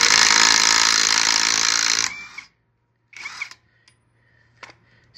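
A compact cordless impact wrench hammers loudly and continuously for about two seconds as it breaks a bolt loose at 85 pounds of torque, then stops, followed by a few short clicks and mechanical rattles.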